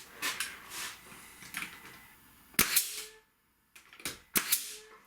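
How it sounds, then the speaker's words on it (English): A nail gun fires in a woodworking shop, heard through instant-response ear protection: about half a dozen sharp, clipped snaps in uneven succession, each short and muted, with quiet gaps between them. "First thing that we tried is nail guns."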